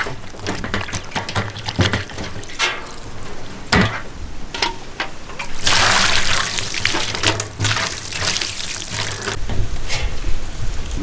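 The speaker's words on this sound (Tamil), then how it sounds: "நல்ல அழகா கழுவி எடுத்துக்கணுங்க." Rabbit meat being washed by hand in water in a village kitchen, with steady splashing and sloshing that swells into a louder rushing pour midway, close and continuous without talk.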